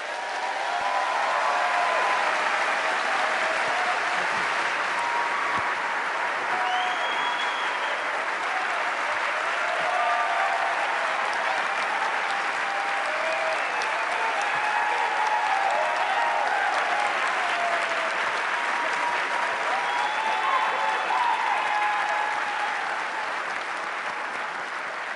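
Sustained, dense applause from a large audience welcoming Neil deGrasse Tyson onto the stage for a talk, holding at an even, loud level for about twenty-five seconds with no pause.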